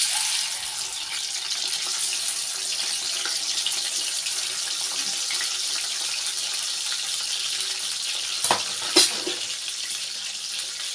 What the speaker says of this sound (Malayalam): എണ്ണ ചൂടായിട്ടുണ്ട്. നമുക്ക് ഉരുളക്കിഴങ്ങ് പീസ് ഇട്ട് കൊടുക്കാം.